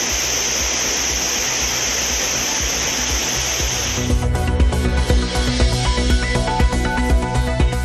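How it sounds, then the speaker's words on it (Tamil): Water roars down the Courtallam falls after heavy rain in a dense, steady rush of white noise lasting about four seconds, then it cuts abruptly to music. "மழையால் குற்றாலத்தில் ஆர்ப்பரித்து கொட்டும் தண்ணீர்"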